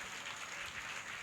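Loud, steady applause from a church congregation at a Sunday service in Ramagundam, a dense wash of many hands clapping continuously with no gaps.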